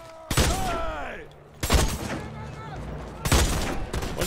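Gunfire from The Expendables 2 video game: three loud bursts of shots at roughly one-second intervals, each trailing into rumbling debris and whooshing effects, with game voices mixed underneath.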